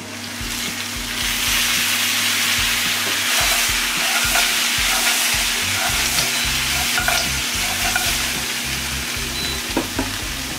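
Sri Lankan mutton curry ingredients fry in oil, a steady close sizzle with intermittent stirring scrapes, loud and continuous with no talking.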